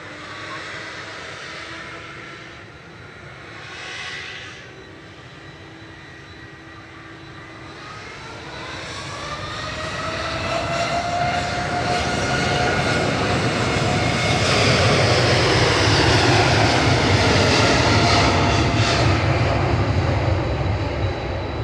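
A heavy jet takes off at Manchester Airport, its engine roar building from a distant hum into a loud, sustained thunder with a rising whine that stays strong to the end.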